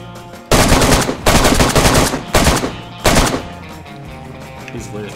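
Automatic gunfire in the DayZ video game rattles out in four loud, close bursts, each a second or less, separated by brief pauses and ending in quieter background noise.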